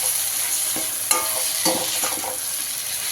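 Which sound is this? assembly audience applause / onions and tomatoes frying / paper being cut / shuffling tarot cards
onions and tomatoes frying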